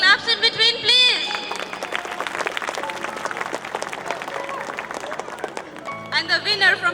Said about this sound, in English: Can have the claps in between, please.